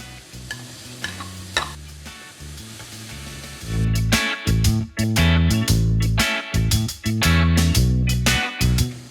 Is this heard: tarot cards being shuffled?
no